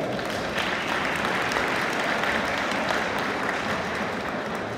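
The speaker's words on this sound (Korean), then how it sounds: "소개해 드릴 때마다 큰 박수로 환영해 주시기 바랍니다" Dense, sustained applause from the audience at the opening of a national yongmudo competition at a university, rolling steadily throughout at a moderate level.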